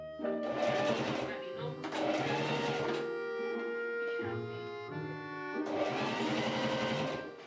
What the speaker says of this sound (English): I serge along the raw edges of the open sleeve.